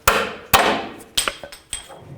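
A steel hammer strikes a pry bar to knock the bushing sleeve from the front lower control arm of a 2001-07 Toyota Sequoia, giving two sharp ringing blows followed by several quicker, lighter metallic taps, close and clear.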